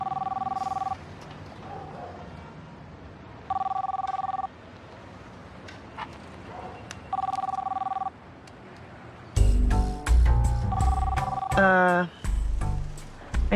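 A telephone rings in repeated double-tone bursts, three rings separated by quiet gaps, then a last ring overlaps voices as people begin talking.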